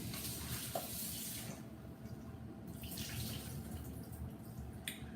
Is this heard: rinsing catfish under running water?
yes